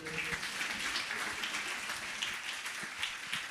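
An audience at a church prayer service applauds for Akhil with a dense, steady round of clapping that carries on without a break, close and fairly loud.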